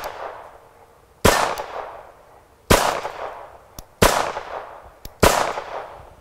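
A Bersa Thunder .380 pistol fires four sharp, loud shots at uneven intervals outdoors, each crack followed by a decaying echo, with faint clicks between shots and no talking.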